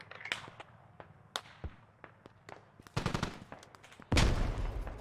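Gunfire rattles out in the military shooter Squad, scattered single shots and short bursts, some distant and some close, ending in a loud nearby blast, with no talking.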